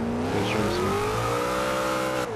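A sports car engine in Forza Horizon 2 revs hard and races along steadily, its rising and falling whine continuous and loud throughout, with no talk over it.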